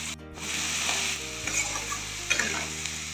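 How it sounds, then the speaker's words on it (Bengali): Turmeric and sugar fry in a pan for a bread pulao, producing a steady close sizzle broken by scraping stirs and a few sharp clinks of a utensil against the pan. No one speaks. "পরিমাণ মতো হলুদ, পরিমাণ মতো চিনি দিয়ে ভেজে নেব ভালো।"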